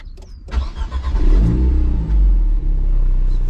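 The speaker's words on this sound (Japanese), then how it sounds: "じゃあ最後エンジン音行きましょうか。" An Alpine A110R sports car engine fires up and revs hard, a loud deep roar rising and holding steady, close by with no talking.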